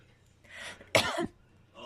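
A woman coughs once, close and loud, in a quiet indoor room by a windowsill where a British cat sits, with a brief breathy sound before the cough.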